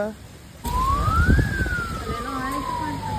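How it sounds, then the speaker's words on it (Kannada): A fire engine siren wails in one long rising then falling sweep, loud and fairly close, with a second fainter tone trailing beneath it. "ಅದ್ಯಾವ್ದು ಫೈರ್ ಇಂಜಿನ್?"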